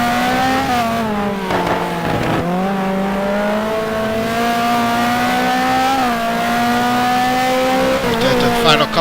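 GT2 race car braking hard into a tight corner at Yas Marina, engine note dropping through downshifts with a brief squeal, then steady high-revving drone, loud and close from onboard, with commentary voices over it.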